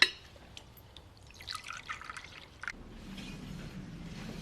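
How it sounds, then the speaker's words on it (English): Coffee is poured in a domestic kitchen scene, heard as a faint trickle and clink of liquid, then a quiet low wash as the pour settles. "Just pour the coffee."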